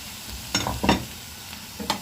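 Chicken pieces frying in hot oil in a pan, with soft crackling sizzle and a few brief louder spits and stirring scrapes, close by and without talk.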